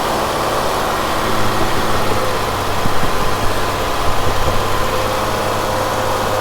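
A Ford Escape engine with a high-idle fault runs at a steady, raised hum that stays elevated with slight wavering, heard close and without voices.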